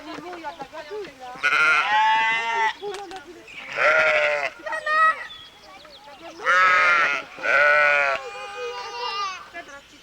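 Goats on a farm bleat repeatedly in loud, wavering calls, close by, with children and adults talking in French around them during a school outing.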